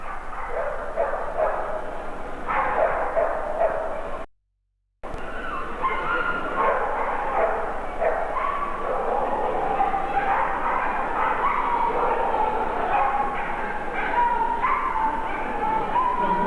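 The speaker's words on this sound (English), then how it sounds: "Number 102, I feel sure you heard that. This dog is Captain Horatio Hornblower" A bull terrier barks and yips repeatedly at a 1997 trophy show, the excited dog sounds running steadily over a loud indoor crowd with a brief dropout partway through.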